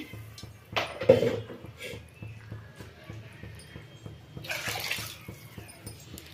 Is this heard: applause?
no